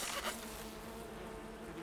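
A cartoon swarm of bees buzzes in a steady, dense drone, close and continuous with no talking.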